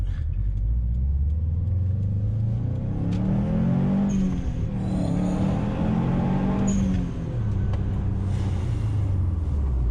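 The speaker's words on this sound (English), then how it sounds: "listen to this HKS Super Sequential blow off for us" A car engine revs up and down in loud, sustained bursts, with brief airy whooshes of an external HKS Super Sequential blow-off valve releasing between revs.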